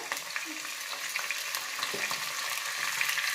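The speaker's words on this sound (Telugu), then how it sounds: "మెంతులు మొలకేసినాం కదా, దీన్ని వచ్చి ఈ ఆయిల్లో అట్టనే వేసేవాళ్ళ బాగా మరగనీయాలమ్మా. మనకు సౌండ్ వస్తుంది చలసలనేసి" Sprouted fenugreek seeds fry in boiling oil with a steady, dense crackling sizzle at close range, even in loudness throughout and with no talk.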